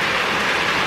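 Heavy, strong rain pours down during a days-long downpour: a dense, constant hiss of drops, loud and close, with no other sounds.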